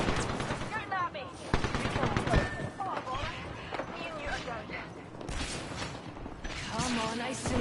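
Rapid bursts of weapon fire in the video game Apex Legends, dense and continuous under a player's excited talking and game sounds.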